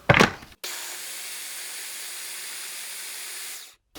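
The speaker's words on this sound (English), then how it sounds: "And then blend until smooth." Tomatillo salsa with cilantro and lime juice being blended, a short burst then a steady loud whirring roar of the blender running for about three seconds before cutting off.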